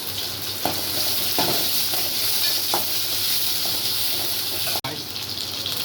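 Curry leaves are added to hot oil with green chillies and large onions for a roadside-style salna, frying with a steady, loud sizzle while a utensil stirs and scrapes the pan, with no talk.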